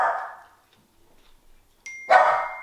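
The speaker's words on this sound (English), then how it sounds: "what are you barking at? The blinds?" A dog gives a couple of barks, loud and close: one burst at the very start, then a short high tone and another louder bark near the end, with quiet in between.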